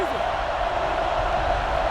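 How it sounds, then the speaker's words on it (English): Stadium crowd noise from NCAA Football 09 forms a steady, loud wash of cheering that holds for the whole stretch, with a voice faintly underneath. "So this crowd is making their presence felt."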